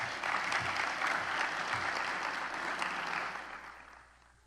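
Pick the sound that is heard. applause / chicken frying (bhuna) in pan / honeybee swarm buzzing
applause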